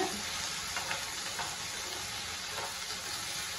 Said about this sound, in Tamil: ரெண்டு வாட்டி இந்த மாதிரி வதக்கு நம்ம வதக்கி விட்டோம்னா சுவையான